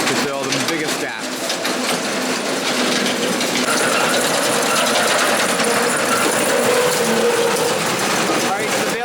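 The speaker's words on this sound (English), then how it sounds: "So the bales are coming up the elevator, into the hay mow, and then Ben's carrying them to my dad" Hay bale elevator running steadily as bales ride up into a barn hay mow, a continuous loud rattling, clanking chain-and-gear drone with ratcheting mechanical clatter that fills the whole stretch, with voices mixed in.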